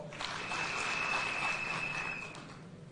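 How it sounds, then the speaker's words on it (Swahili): Audience at a Kenyan political gathering clapping: a steady wash of hands at moderate distance, fairly soft, holding for a couple of seconds before tapering off. "pigieni makofi."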